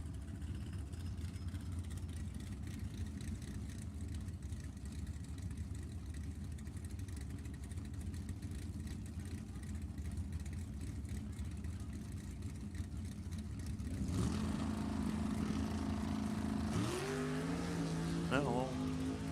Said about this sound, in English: Sounds like Momi's car might have zinged the tire a little tiny bit there.